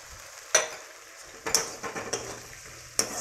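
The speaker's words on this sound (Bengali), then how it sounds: "মশলাটা একটু নাড়াচাড়া করে এই কুচানো টমেটোগুলোকে দিয়ে দেবো" Spices stirred in a frying pan: a faint low sizzle with three or four distinct scraping clanks of the spoon against the pan, close and spaced out, with no talking.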